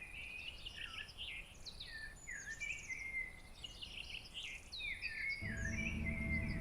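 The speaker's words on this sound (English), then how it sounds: "I can hear birds." Birds chirp and trill in the Lumberjack's Dynasty game world, a steady layer of high, overlapping calls filling the scene at a soft distance, with a low ambient hum rising near the end.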